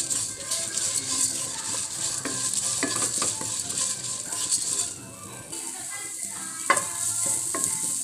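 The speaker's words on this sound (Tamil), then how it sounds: "இதெல்லாம் நல்லா வறுத்துக்குங்க, நல்லா பொன்னிறமாக வர மாதிரியே வறுத்துக்குங்க" Curry leaves and spices fry until golden in hot oil for a fenugreek curry, with a steady close sizzle and repeated stirring scrapes and clicks of a spoon against the pan.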